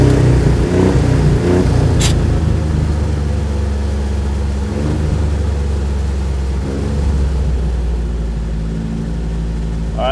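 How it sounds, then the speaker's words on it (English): An old 56-year-old Jeep CJ5 engine idles loudly in extreme cold and snow, its revs rising and falling unevenly as if running lean, a steady close rumble with no talking. "Revs were raising a bit like we were leaning out."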